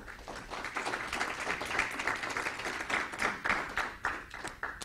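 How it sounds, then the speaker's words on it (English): An audience claps for speaker Wayne Thorburn at the end of a talk on Ronald Reagan and the Sharon Statement, a sustained, fairly faint round of many hands with scattered sharper claps. "How about another round of applause for our speaker, Wayne Thorburn?"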